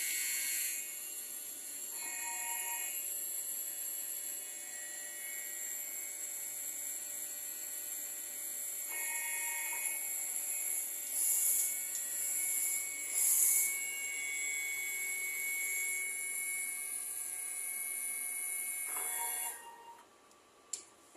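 Inkjet printer printing a nozzle test, a steady high mechanical whine with the print head carriage shuttling back and forth in repeated passes, stopping with a soft click near the end.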